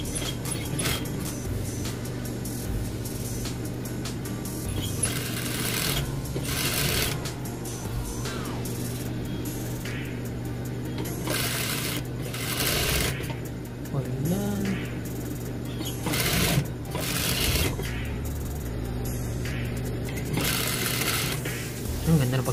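A sewing machine stitches a double-folded hem on a costume, running in repeated bursts of rapid mechanical whirring with pauses in between. People talk over it throughout.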